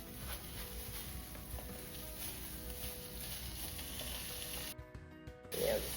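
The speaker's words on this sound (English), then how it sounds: "the skillet's hot. You can hear it frying." About two pounds of ground beef browning in a hot skillet, giving a steady close sizzle and crackle throughout, with a brief quieter gap near the end followed by a clatter.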